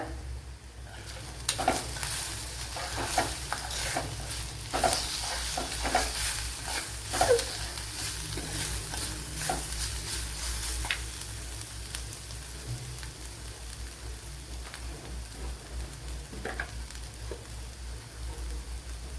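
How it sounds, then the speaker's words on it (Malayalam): Curry leaves fry in a pan for a banana and chicken snack, giving a steady sizzle with periodic spatters and stirring scrapes, close and moderately loud, with no speech. "ഇതിലേക്ക് കുറച്ച് കറി ലീവ്സ് കൂടെ ചേർത്ത് കൊടുക്കുക."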